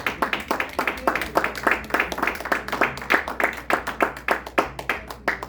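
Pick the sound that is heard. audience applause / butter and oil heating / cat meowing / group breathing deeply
audience applause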